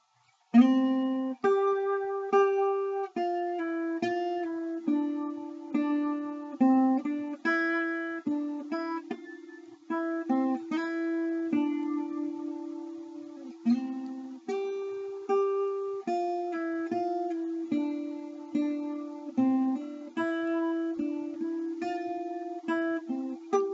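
An electric guitar plays a flowing melody of plucked, sustained notes, steady and clear throughout with no voices.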